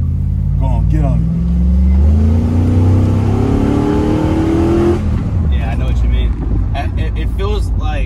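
A Chevrolet Silverado truck with a built 4L60E transmission accelerates hard, its engine note climbing in pitch over several seconds, then easing off as the gear changes; people talk over it before and after the pull.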